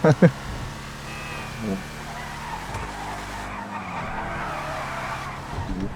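Imponte Arbiter GT muscle car in GTA V Online, its aggressive engine revving and accelerating with tire squeal and skidding, loud and close, with someone talking over it.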